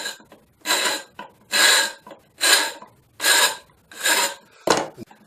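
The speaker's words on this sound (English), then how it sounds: "the thing to do is to rotate the tube while you're filing" Hand file rasping across sharp burred edges of a cut metal tube held in a vise, six steady rhythmic strokes about a second apart, close and loud, with the tube rotated between passes.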